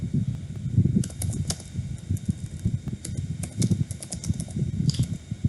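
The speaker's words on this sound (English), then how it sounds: "I'm just typing down the differences that have already been spotted" Typing on a computer keyboard, a quick irregular run of close, crisp key clicks in bursts over a low background hum, no voices.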